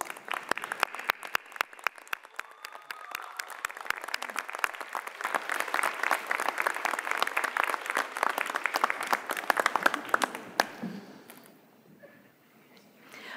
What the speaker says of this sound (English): join me in applauding all of our guests who have come to celebrate you